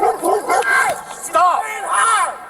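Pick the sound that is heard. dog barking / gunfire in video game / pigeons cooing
dog barking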